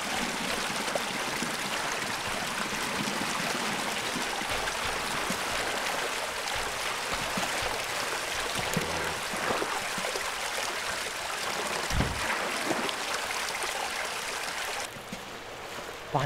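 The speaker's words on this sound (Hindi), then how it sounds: "पानी भर रहा है भाई।" Water rushes in and floods a space in the game Classrooms, a steady, loud broadband gush like a churning stream that keeps going throughout, with a short dull knock near the end.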